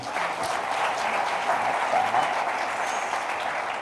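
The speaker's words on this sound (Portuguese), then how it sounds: "vamos aplaudir Cristo" Worshippers applaud during a Portuguese-language celebration service in church, marking a couple's wedding anniversary. Steady, crowded clapping fills the hall at an even level, with faint voices mixed in.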